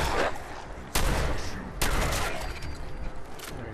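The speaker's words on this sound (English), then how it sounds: "This shotgun is effective. How come I never used it?" Shotgun blasts from the video game Fallout 4, set in the Glowing Sea: two loud, sharp shots about a second apart, each followed by a decaying boom, with faint game ambience between.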